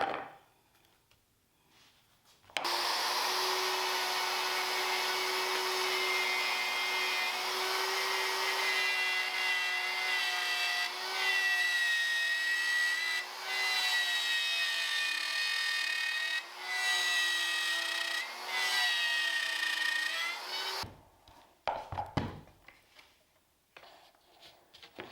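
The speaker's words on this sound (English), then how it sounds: "use a router with a pattern bit in it to cut that guy out" A router fitted with a pattern bit cuts out a wooden apron piece for a torsion box assembly table, a loud steady high whine running about eighteen seconds with slight pitch dips as the bit loads in the wood, then stopping and spinning down.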